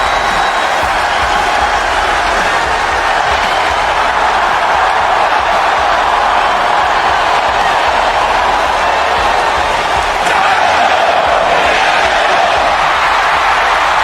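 Arena crowd noise from the WWE 2K25 video game during a wrestler's entrance on Raw, a steady, dense roar of cheering that holds loud and unbroken throughout.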